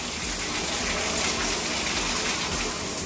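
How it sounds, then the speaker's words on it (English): Side shower jets in a cruise ship spa spray water in a loud, steady, hissing rush that fills the whole clip, with no talking. "it's the side shower, which tickles my sides"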